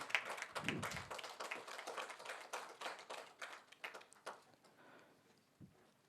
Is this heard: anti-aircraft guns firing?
no